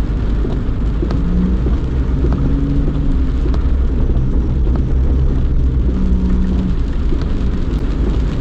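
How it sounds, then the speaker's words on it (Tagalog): Heavy rain pours in Davao, a steady, loud, dense hiss of rain on surfaces with low rumbling underneath throughout, continuous without pause. "Dito sa Davao ngayon guys ay sobrang ulan."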